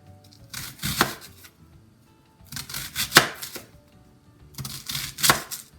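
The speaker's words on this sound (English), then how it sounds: "I take a half an onion and then I start slicing" Half an onion sliced lengthwise with a French ball knife, three separate bursts of quick crisp cuts against a board with short quiet pauses between them, close and clear.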